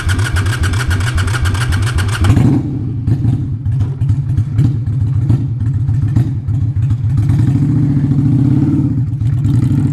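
A 2005 Honda Shadow VLX 600 motorcycle with 12,000 miles runs close by. Its engine throbs loudly and steadily, and the tone shifts abruptly into a rougher, lower idle partway through.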